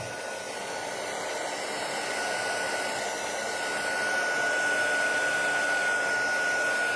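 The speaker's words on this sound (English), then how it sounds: "when you're using a heat tool, it gets really hot and you can catch stuff on fire" Heat tool blowing steadily while melting embossing powder on a Christmas craft tag, a continuous close whooshing hum with a thin whine that grows slightly louder toward the end, no talking.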